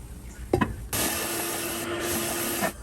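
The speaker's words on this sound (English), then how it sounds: "So now he's going to put it on the belt sander." Belt sander grinding the cone-shaped metal tip of a tool during a Toyota R150F manual transmission rebuild: a couple of knocks, then a loud continuous rasping whir that runs steadily close by before cutting off.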